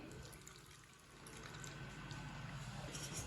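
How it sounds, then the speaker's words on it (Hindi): Half a cup of water poured into a cooking pot while making a mango and chicken curry, a soft, steady stream that grows a little fuller as the pour goes on, faint and close, with no talking. "आधी प्याली पानी डाल लेंगे।"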